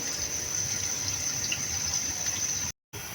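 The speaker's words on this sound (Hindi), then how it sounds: "तो यहाँ पे जनाब हमने चावलों के लिए पानी बॉईल होने के लिए रख दिया है।" Water running steadily into a pot to boil soaked rice for Karachi-style beef biryani, a continuous close hiss and gush of tap water that stops abruptly near the end.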